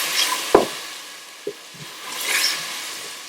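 Spices and tomatoes fry in a pan with turmeric, cayenne pepper powder and salt, giving a soft steady sizzle with a few sharp clinks and taps of stirring.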